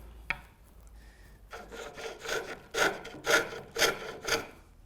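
Spindle gouge cutting a tapered wooden tenon on a lathe: a faint tick, then a series of rhythmic rasping cuts growing stronger, about seven strokes, close and fairly quiet.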